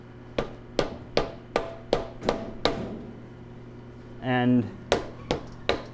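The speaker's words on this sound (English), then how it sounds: "you're going to want one of these with a rubber end, and you're just going to give it a few whacks" A rubber mallet strikes a Honda CRF100 engine cover about a dozen times in an even rhythm, each whack a sharp, close knock. A short burst of talk breaks the series partway through before the blows resume.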